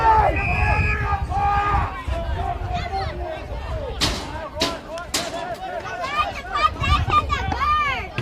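Spectators at a country football league match between Sea Lake Nandaly and Birchip Watchem grumble and call out over a disputed out-on-the-full call, a loud, restless murmur of many voices with sharper shouts rising above it and a commentator speaking over the crowd.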